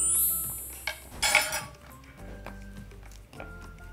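Korean seaweed seasoning sauce of chopped scallion, minced garlic and plum syrup being mixed in a bowl, a few sharp utensil clinks and taps against the dish followed by softer scraping and stirring, close and brief.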